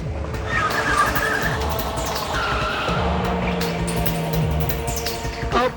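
Car tires skid and squeal loudly during a dramatic scene in a Hindi TV serial, a sustained screeching slide with engine roar under it, running for several seconds with a steady drone and sharp squeal tones.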